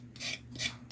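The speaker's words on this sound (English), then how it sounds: "this is a little finger sander" Two short bursts of rasping sanding from a small finger sander on a wooden birdhouse, close by, with a low steady hum underneath.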